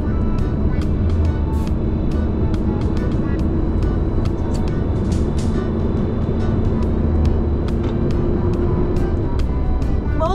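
A heavy vehicle descending the Serrinha de Marília slope under engine brake, giving a steady loud low droning rumble with a sustained tone throughout, with road and wind noise around it.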